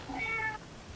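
Pickles, a pet cat, gives a single short meow, faint and fairly close, in an otherwise quiet room.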